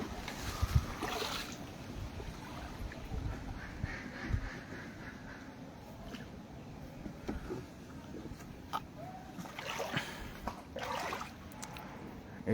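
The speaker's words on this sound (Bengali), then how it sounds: "ওই রাস্তায় আমরা এখন নৌকা চালাচ্ছি।" A boat is rowed through floodwater in a flooded village. Faint sloshing and irregular splashes of the oars carry over a low, murky outdoor background.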